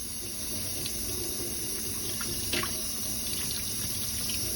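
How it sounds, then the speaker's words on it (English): Tap water runs steadily into a sink while a paint palette is washed clean, a constant close splashing stream with faint scrubbing touches and no talk. "I'm looking at the water, making sure it runs clear"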